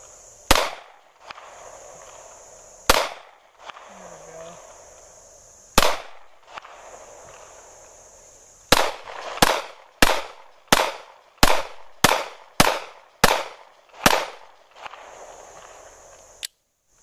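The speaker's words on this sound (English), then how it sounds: "we'll do some more shooting now with the gun, and we'll tape up those targets down there" XD9 subcompact pistol fired at targets on a range: about a dozen sharp, loud gunshots, three spaced slowly at first, then a quicker string of shots with a final one after a pause.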